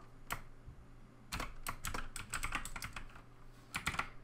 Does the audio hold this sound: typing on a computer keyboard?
yes